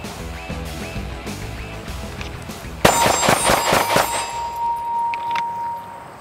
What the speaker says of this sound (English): it should sound like I'm shooting six shots on one target